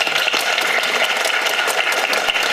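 A dense, steady wash of applause fills a university hall as students clap through a town-hall political talk in Suwon, loud and unbroken with no speech on top.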